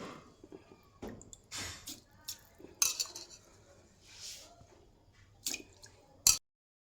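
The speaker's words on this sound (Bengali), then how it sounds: "এবার যে চালগুলোকে আমি ধুয়ে রেখেছিলাম এগুলো মিক্স আপ করে দিই।" Washed rice being mixed by hand in a bowl for khichuri gives a series of wet squishes, drips and light clinks against the bowl, close and intermittent, with faint background movement.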